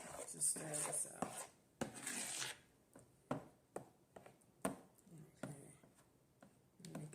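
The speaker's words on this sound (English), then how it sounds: "Using a spoon to stir this up." A spoon scrapes and clinks against a bowl while stirring mashed bananas for homemade banana bread, a quiet, irregular series of taps and scrapes, with a person talking in between.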